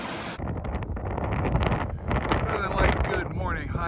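Cold, gusty wind on a mountain hiking trail in rain buffets the microphone in a steady loud roar, rushing and rumbling throughout with no pause.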